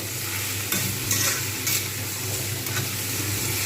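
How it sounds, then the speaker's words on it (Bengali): Ginger garlic paste frying in a pan with tomatoes and green chillies for a Bengali fish roe fritter curry, a close, continuous sizzle with scraping stirs and small crackling bursts, no voices. "এবার আমি এতে দেবো আদা রসুন পেস্ট, যেটা রেখে দিয়েছিলাম সেইটা আমি এতে দেবো।"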